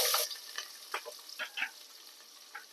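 Chopped onion hits hot oil in a pan for coconut-milk mint rice, giving a quiet, intermittent sizzle in short soft bursts and crackles rather than a steady hiss.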